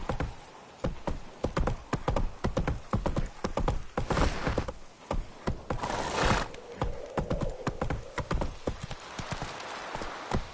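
Geralt's horse Roach trots in The Witcher 3, steady clip-clop hoofbeats keeping a regular rhythm throughout with a couple of brief louder swells.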